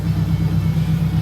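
A K24-swapped turbocharged Honda Civic EK coupe with a straight-cut reverse gear creeps backward, producing a steady low engine rumble and idle drone that stays close and even throughout, with no talking.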